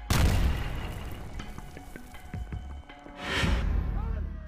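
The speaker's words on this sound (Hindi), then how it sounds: "कुछ देर बाद धमाके की धमक सुनाई देती है" A deep boom hits at the start, then a muffled rumble with scattered clatter, and a second dull surge of noise near the end.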